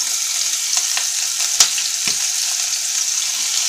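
Chopped onion sizzles steadily in a hot pan with fish and bean seeds, a dense continuous fry with a few soft stirring knocks and one sharp clack partway through.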